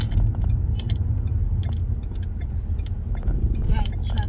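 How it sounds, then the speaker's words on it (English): Steady low engine and road rumble fills the inside of a car driving through heavy traffic, with scattered small clicks and rattles and a voice speaking near the end. "You guys, traffic is like horrible out here."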